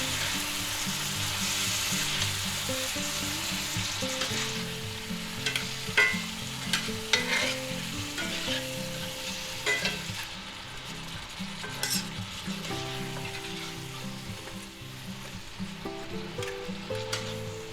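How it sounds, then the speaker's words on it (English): Vegetables for a pepper steak stir fry with mushrooms hiss in a hot pan as a steady sizzle, with a few stirring scrapes and clinks near the middle and no talking. "To that, we're going to add all our vegetables. Put them right in there. Give them a quick stir."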